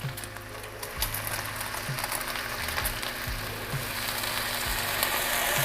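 Meat sizzles steadily in a Paderno cast iron pan, frying in its own released fat with no oil. A low continuous hiss carries throughout, with periodic soft knocks and clinks from utensils.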